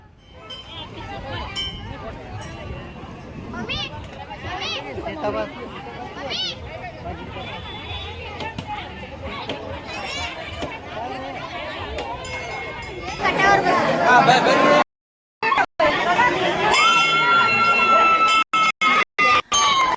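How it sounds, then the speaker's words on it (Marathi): Devotees crowd a busy Hindu temple on Deep Amavasya morning, a continuous hubbub of overlapping chatter with faint clinks and bells. A voice speaks over it, and the din swells louder toward the end, broken by brief dropouts. "तुम्ही बघू शकता इकडे किती गर्दी आहे"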